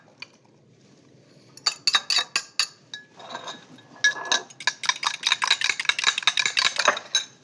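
A whisk beats water and oil together in a bowl, first a few scattered taps, then rapid, bright metallic clinking strokes that grow quicker and louder, close by.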